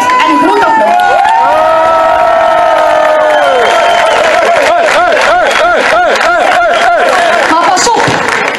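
A crowd cheers and chants at a team presentation for KAA Gent, with loud rhythmic shouts of many voices rising in repeated bursts and sustained whooping throughout.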